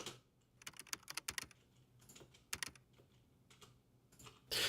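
Someone types on a computer keyboard during a livestream of design work, with close, crisp clusters of keystrokes in quick bursts separated by short pauses. A louder clatter comes at the end, and no one speaks.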